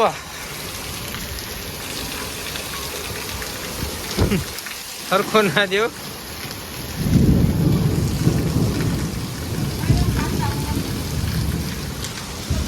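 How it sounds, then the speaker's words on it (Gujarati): Heavy rain pours steadily at night in Rajkot while deep thunder rumbles and rolls, loud and close; a voice speaks briefly in the middle. "ફૂલ વરસાદ એવો ભાઈ."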